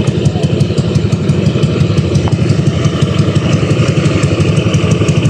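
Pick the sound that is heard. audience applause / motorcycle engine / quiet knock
motorcycle engine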